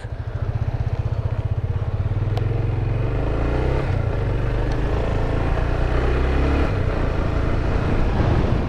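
A Honda XR250 motorcycle engine while riding, a loud, continuous throbbing drone close up that holds steady as the bike cruises along, with no speech over it.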